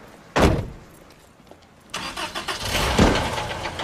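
A car engine cranks and catches with a loud burst, falls back briefly, then starts and keeps running with a rough, rising rumble close by.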